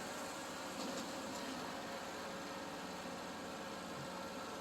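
A John Deere ZTrak zero-turn mower drives with its engine running at a steady, even drone close by, a constant hum and vibration with no talk over it.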